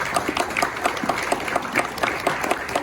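An audience claps for a veteran at a Quilts of Valor ceremony, producing close, lively applause with a clear, fairly even rhythm that runs steadily throughout.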